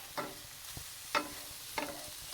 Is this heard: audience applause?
no